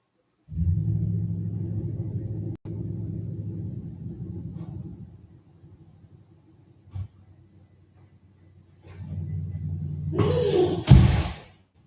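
A Toyota Tundra pickup's 5.7-litre V8 rumbles steadily at idle, goes quiet, then rumbles again before a loud thump near the end.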